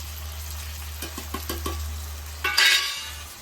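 Chili, coriander and turmeric powders being stirred into hot oil: light scraping and tapping of a spoon in a pan over a steady low hum, then a brief louder sizzle near the end.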